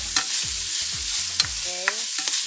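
Pancit bihon rice noodles with carrots stirred in a frying pan, a run of quick scraping, clattering strokes with a soft sizzle underneath, close and steady with no voices.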